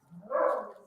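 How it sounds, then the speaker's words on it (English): A single short dog bark or yelp, fairly close, rising and fading within a second. "I apologize if you hear my dogs in the background."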